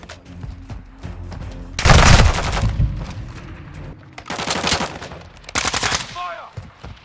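Machine gun fire in a video game, several loud rapid bursts separated by short pauses, the first and heaviest near the middle, then two more sharp volleys, with faint radio chatter between them.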